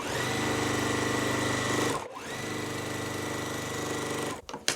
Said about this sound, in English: we're going to sew going this way